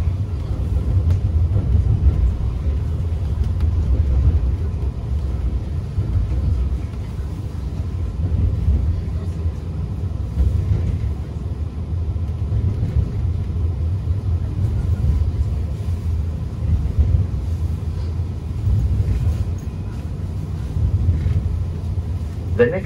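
A Sydney light rail tram rolls along its route from Central Station toward Fish Market, giving a steady low rumble and road-like drone heard from inside the car throughout, with no talking.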